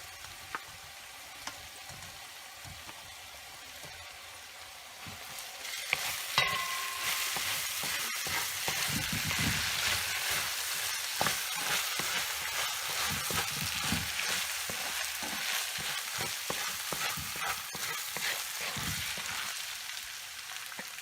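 Rice fries and crackles in a hot pan for fried rice as a utensil stirs and scrapes through it, the sizzle rising after a few seconds and holding steady, close and moderately loud, with scattered clicks and no talking.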